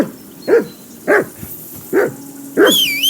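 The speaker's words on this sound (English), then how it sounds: "Whistle at that mutt of yours to stop barking." A dog in the video game Kingdom Come Deliverance II barks four times, evenly spaced, loud and close, with a thin whistle-like tone near the end.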